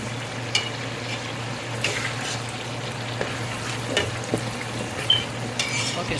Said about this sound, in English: I'm gonna let this onions fry just a little bit more